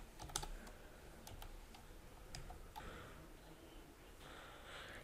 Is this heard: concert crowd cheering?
no